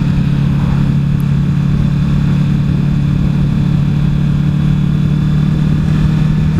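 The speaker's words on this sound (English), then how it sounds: "We've got a convoy going on here from the looks of things." Steady engine drone from a group motorcycle ride on the Mt Glorious mountain road near Brisbane, loud and constant throughout with a low idling hum and no breaks.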